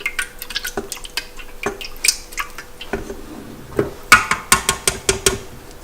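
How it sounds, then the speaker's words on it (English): Stirring fragrance scent into melted candle wax in a pot, with repeated sharp clinks and scrapes of a utensil against the container, irregular at first and then quicker and louder near the end. "And just stir that in."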